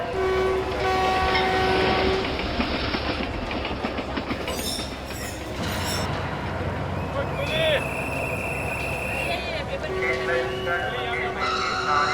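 Indian local commuter train rumbling along a railway platform, with clattering wheels, a horn blast and whistle tones, under loud platform announcements and crowd talk.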